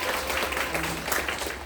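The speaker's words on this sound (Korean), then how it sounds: "박수 한번 주세요" An audience at a club performance claps steadily for a brief moment, as a close, full wash of applause.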